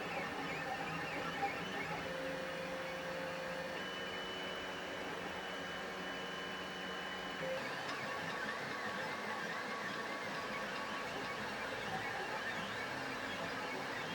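A 3D printer runs continuously while printing drone launcher parts, a steady droning whir with stepper-motor tones that shift in pitch as the head moves, mid-distance, no talking.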